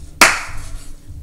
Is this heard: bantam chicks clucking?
no